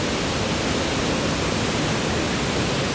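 The Saraswati river at Mana village rushes in a loud, dense, unbroken roar of fast-flowing water, close by and filling the scene.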